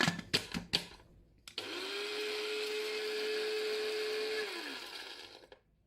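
Dehydrated horseradish ground into powder in an electric grinder, starting with a few sharp clicks and knocks, then a close, loud whirring motor hum that runs for about three seconds before spinning down.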